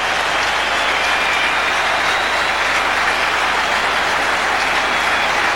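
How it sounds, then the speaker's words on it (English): A cricket crowd at a 1982 Pakistan versus England Test match cheers and applauds batsman Bob Taylor, a dense, loud, continuous wash of clapping and roaring with no break. "A great cheer goes out for Bob Taylor."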